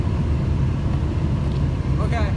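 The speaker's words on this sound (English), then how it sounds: "The car just moved on its own" A car rolling forward on a mountain road gives a steady low rumble throughout, with a voice briefly cutting in near the end.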